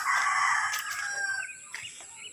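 Chickens and a rooster at a small backyard chicken coop, with a rooster crowing loudly and nearby hens clucking continuously throughout.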